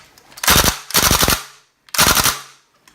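Close, loud full-auto bursts from a WE Tech gas blowback Thompson airsoft gun: two rapid bursts back to back, a brief pause, then a third burst, each a fast rattling string of sharp shots.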